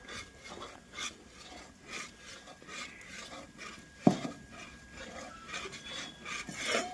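Panjiri being stirred as the flour roasts slowly in a pan over low heat, a continuous soft scraping and rasping with irregular strokes and one sharper clink of the utensil against the pan.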